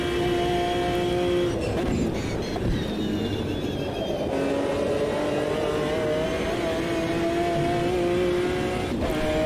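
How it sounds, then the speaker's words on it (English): McLaren endurance race car in Automobilista 2, its engine whining loud and close with a steady high-pitched tone that shifts as it upshifts and accelerates, alone without any talk. "It's fun to drive with a McLaren"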